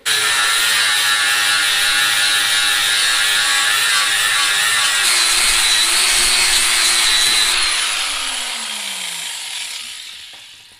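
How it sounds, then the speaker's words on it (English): Flap wheel on a grinder working a classic muscle car chassis frame, a steady loud abrasive whir that runs continuously for about eight seconds before the tool spins down and fades. "now we'll hit it with the flap wheel"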